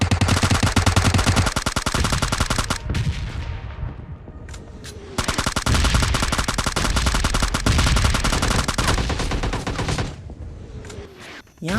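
Automatic gunfire in the battle royale game PUBG Lite comes as long loud rapid bursts, one sustained burst, a short gap with a few isolated shots, then another long burst.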